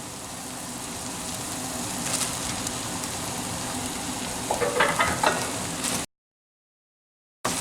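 Rice poured into a sizzling seafood paella pan, a steady crackling fry with a brief rattling burst partway through before the sound cuts to silence.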